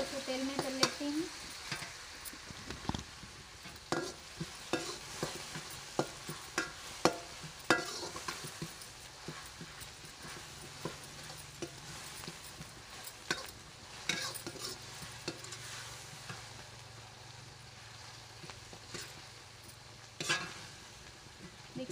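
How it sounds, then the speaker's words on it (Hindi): Onion and garlic fry in oil in a pan, a low, steady sizzle broken by frequent clicks and scrapes of a stirring spoon against metal, fairly quiet and close with no one speaking. "इसमें प्याज और लहसुन डाल देती हूँ तेल में, और इसको भी प्याज को अच्छी तरीके से तेल में तल लेती हूँ"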